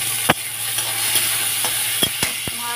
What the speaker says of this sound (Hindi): मैं टमाटर इसमें डाल दूंगी